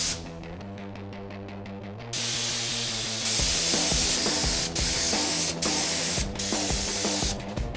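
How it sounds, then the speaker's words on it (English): A spray gun lays clear coat onto the side skirts of a BMW E36, a loud close continuous hiss that starts, stops and restarts in several bursts of varying strength. "It's time to mix some clear coat. And this is the final step, the clear coat."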